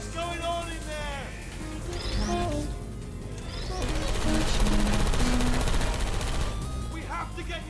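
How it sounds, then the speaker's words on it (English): Rapid gunfire bursts from the Portal 2 video game, fairly faint and mixed with synthetic game tones and chirps, with a voice speaking over it. "I heard gunfire!"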